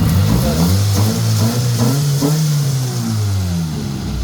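A Mitsubishi Lancer engine revs up and down repeatedly with the air-conditioning compressor engaged, loud and close, with a steady mechanical hum underneath.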